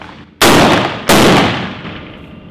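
Two loud, close gunshots from a SCAR combat assault rifle fired by a first-time shooter, each sharp crack followed by a ringing decay, about two-thirds of a second apart.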